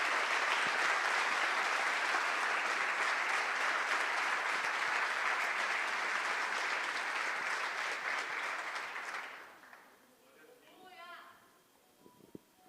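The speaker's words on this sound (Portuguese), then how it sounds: "Você pode mais uma vez aplaudir ao Pai, ao Filho e ao Espírito Santo de Deus" Church congregation applauding during a worship service, a long sustained wash of clapping that stops fairly abruptly, followed by a brief voice and a few stray sounds.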